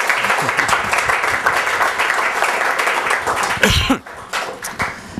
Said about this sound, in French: Oui, applaudissons-les